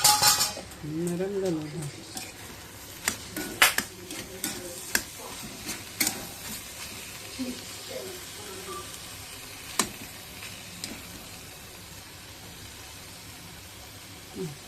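Beetroot bhaji being stirred in a pan, with scattered scrapes and clinks of a spoon against metal over a faint sizzle, close, and a voice speaking briefly near the start.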